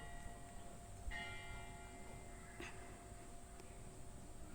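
A church bell rings out from a hillside town near Karpacz in the mountains, heard at a distance as a few sparse, resonant strokes over steady outdoor background noise.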